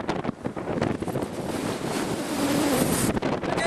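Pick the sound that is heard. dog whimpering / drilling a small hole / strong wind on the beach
strong wind on the beach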